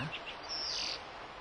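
A few brief, high bird chirps sound faintly near the water, isolated against a quiet background.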